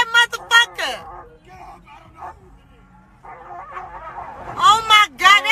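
A loose pit bull attacking a German shepherd, with frantic yelping, whining and barking in loud bursts at the start and end, while people shout and talk over the fight.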